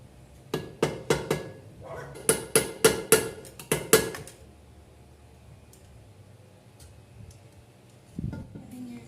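Sharp metallic hammer blows ring out in two quick bursts of strikes as old front wheel bearings are knocked out of a Suzuki Raider 150 motorcycle, then quiet follows with a faint thud near the end.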